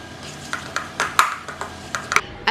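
Butter being mixed into a stevia and salt mixture for a keto recipe, heard as a string of sharp utensil clinks and taps against a bowl at an uneven rhythm, close and fairly quiet.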